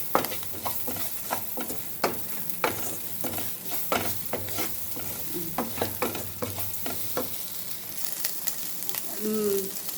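An egg and rice mixture fries in a pan while being stirred: a continuous sizzle sits under repeated sharp scraping clicks of a spoon against the pan, close and fairly loud.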